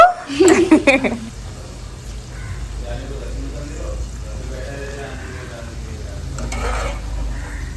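Onion bhaji fry slowly in a pan over a low flame. A soft, continuous sizzle runs close by throughout, after a brief burst of voice at the very start.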